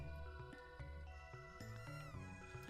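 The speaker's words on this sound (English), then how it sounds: "Also, Alphador keeps meowing for as long as you are here." A cat meows in the Super NES video game Chrono Trigger, with short synthesized meows repeating in a quick rhythm over tonal game music.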